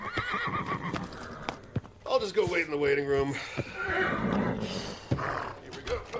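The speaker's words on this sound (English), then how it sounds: "That's a very high horse." In a phone commercial, a horse gives a loud neigh between close clip-clopping hoofbeats, while people talk and chuckle over it.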